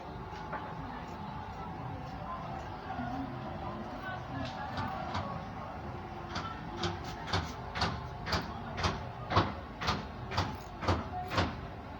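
Fabric is cut for the back panel of a gown. Quiet handling comes first, then a run of regular, crisp snips grows louder and closer, with a low voice faintly underneath.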